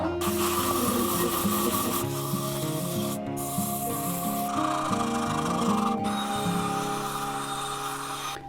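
Sandpaper rubs against a spinning wooden bowl on a mini lathe, a continuous gritty hiss over the motor's steady hum, with brief breaks in contact as the paper is lifted and reapplied.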